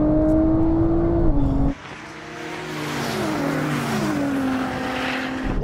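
A Porsche 911 Turbo, BMW M8 and Nissan GT-R drag race, with loud engines revving hard through rising and falling gear changes, plus a burst of tire noise as they launch.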